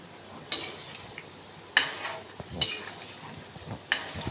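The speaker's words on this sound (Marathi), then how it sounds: "आता मी छान सोनेरी कलर होस तर छान शंकरपाळे तळून घेते" Shankarpali dough pieces frying in oil over a medium flame, with a steady soft sizzle under a few sharp metallic clinks from a utensil against the pan, spaced about a second apart.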